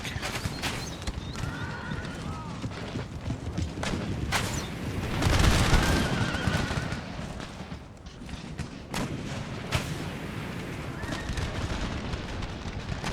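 Musket volleys crack sporadically across a Total War: Empire battlefield, with sharp broadband bangs scattered over a dense battle din; horses whinny and hooves clatter throughout.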